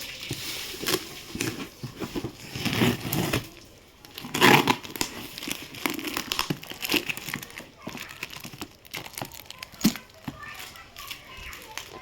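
Plastic packaging of Noise Airwave Max 4 headphones crinkles and crackles as it is pulled open, irregular rustling bursts close by with a louder crunch midway, while a person talks over it.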